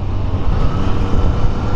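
A 2015 Yamaha FZ-09 (MT-09) motorcycle's engine pulls hard under throttle in fourth gear, a loud, steady low rumble throughout.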